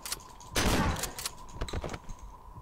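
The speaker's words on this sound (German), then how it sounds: "Zwei Schüsse." Gunshots in the video game Cry of Fear: a loud, close sharp blast followed by a few more quicker reports, fairly near and with no voices over them.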